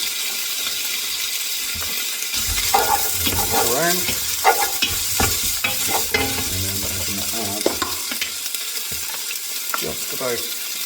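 Roasted chicken with spice mix sizzles steadily in a hot pan while a utensil scrapes and stirs it, close and clear, with someone talking over the frying.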